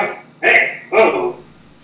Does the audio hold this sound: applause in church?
no